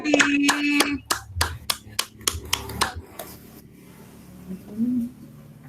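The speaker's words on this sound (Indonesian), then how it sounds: "Tepuk tangan untuk diskusi kita hari ini Bapak Ibu." Scattered hand claps from a small group at the end of a discussion during an in-house training session, about a dozen sharp, uneven claps in the first three seconds, then quiet room noise with a brief voice.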